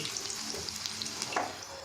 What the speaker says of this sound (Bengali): এটা এবার আস্তে আস্তে এরকম চ্যাপটা চ্যাপটা করে আমি তেলের উপরে ছেড়ে দেব।